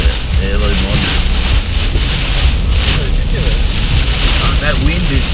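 Heavy rain driven by strong wind, a loud roaring wash with buffeting gusts hitting the microphone, heard from close up, with people talking over it throughout.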